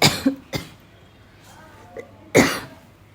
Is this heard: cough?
yes